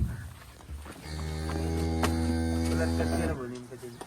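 A cow in a farm cattle shed gives one long, loud, close moo lasting a couple of seconds, with quiet shed ambience before and after.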